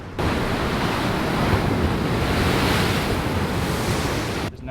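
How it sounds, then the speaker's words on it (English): Big ocean waves booming against the East Coast of Australia at Bouddi National Park, a loud, continuous roaring surge of surf with wind buffeting the microphone close by. "You can just hear the big booms of the ocean"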